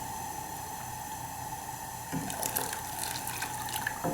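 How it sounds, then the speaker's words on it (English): Two cups of boiling water pour steadily into a pot of porridge, a soft continuous splashing that grows a bit louder and more bubbly partway through, with no talking. "I'm putting in my boiling water slowly"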